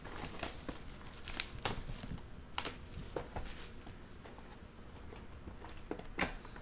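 2019 Panini Prizm Draft baseball card packs are ripped open by hand: close, continuous crinkling of foil wrappers punctuated by sharp tearing bursts.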